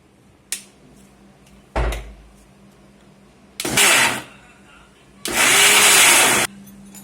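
A mixer grinder jar crushing potatoes with roasted spices and chillies runs in two loud whirring bursts, the second longer, after a couple of sharp clunks of the jar being handled.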